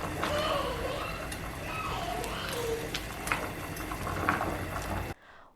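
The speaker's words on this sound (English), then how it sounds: "let it simmer for about 15 minutes" Pork belly simmering in water in a pot gives a steady bubbling hiss with soft pops and clicks, faint and continuous, while a voice talks over it before the sound cuts off.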